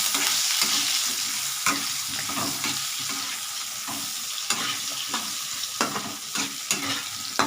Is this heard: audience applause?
no